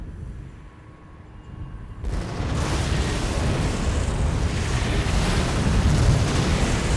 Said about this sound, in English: That was one big explosion in the refinery